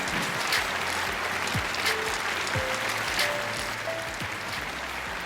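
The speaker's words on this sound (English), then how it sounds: "A big round of applause." A conference crowd claps to welcome a keynote speaker onto a stage, a steady, even wash of applause from many hands at moderate level with no one speaking.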